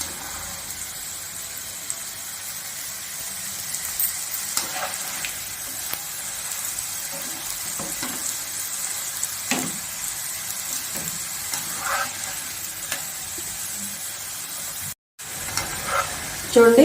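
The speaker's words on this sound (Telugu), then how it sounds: "చూసారు కదా ఎలా డీప్ ఫ్రై అయ్యానో. ఇంకా కొంచెం వేగితే బాగుంటుందండి, కొంచెం వేగాలి ఇంకాను." Bitter gourd slices deep frying in hot oil give a steady broadband sizzle, with a few soft clicks and stirs, a brief dropout near the end, and a voice faintly over the frying.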